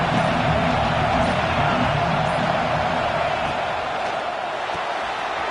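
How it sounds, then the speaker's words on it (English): Loud, steady roar of a football stadium crowd at an SMU versus Oklahoma game, a dense wash of cheering voices sustained throughout with no break, close and enveloping. "this crowd is fired up. Listen to this noise here"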